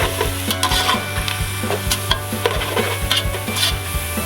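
Browned onions and garam masala for chicken pulao sizzle steadily in a pot while a utensil stirs with regular scraping strokes, close and fairly loud, with no voices.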